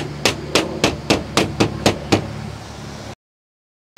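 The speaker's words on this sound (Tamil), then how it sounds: "ஸோ இதை இப்போ வந்து நம்ம மேலட் வச்சு அடிச்சுக்கலாம்." A mallet striking a plastic block into an elevated garden raised bed: eight sharp, evenly spaced knocks, close and loud, then sudden silence.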